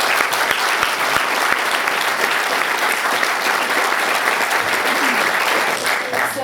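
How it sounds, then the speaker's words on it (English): Audience applause for Alan Johnson at the end of a Q&A event at the York Union, a dense, sustained round of clapping from a full room that holds steady to the end. "round of applause for Alan Johnson"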